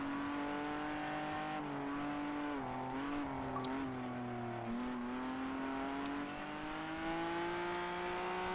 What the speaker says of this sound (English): I've got to do a whole lap now around the Indianapolis circuit with 2 punctured front tyres